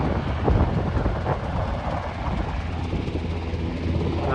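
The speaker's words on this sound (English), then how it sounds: "We've got the noise of the helicopter." A helicopter flies over a white sandy beach, giving a steady rotor-and-engine roar with low rumble throughout, moderately loud and continuous, with no voices.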